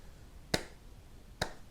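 Two sharp, isolated hand claps spaced almost a second apart, crisp and close with a quiet room between them, marking out a beat.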